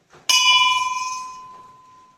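A temple bell at Rangna fort rings once with a sharp clang, and its bright tone rings on and fades slowly over about two seconds. It is close and loud, with no talk over it.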